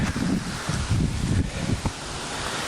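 Steady wind buffeting a microphone, with low rumbling gusts rising and falling throughout and no voices.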